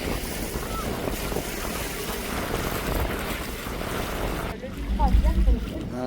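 A boat moving across the water on a sightseeing ride, with steady engine and wind rumble, wave wash and a low thumping near the end.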